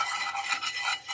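Quick scraping strokes of a spoon stirring an egg pepper roast mixture with a pinch of salt, brisk and rhythmic, close and fairly loud with no talking.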